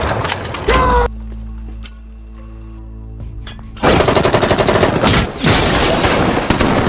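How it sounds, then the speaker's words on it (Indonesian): Gunfire rings out in an action film shootout during a bank robbery, with a loud opening burst, a quieter tonal interlude, then sustained rapid automatic fire and a final volley, with a voice briefly audible. "Baku tembak pun terjadi."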